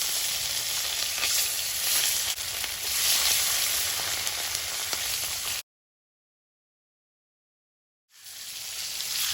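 Steady hot-oil sizzle as a piece of rohu fish fries in a kadai, loud and continuous, cutting out to silence for a couple of seconds before the frying resumes.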